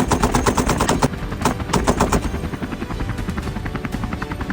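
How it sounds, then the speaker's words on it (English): A helicopter hovering low during an aerial wild boar hunt, its rapid, loud rotor chop thudding steadily and close throughout. "Hold the aircraft stable for John's optimal shot angle."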